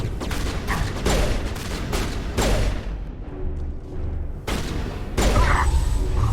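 Gunfire in Mass Effect 1 Legendary Edition, several sharp, loud bursts of shots with booming impacts, separated by short quieter gaps.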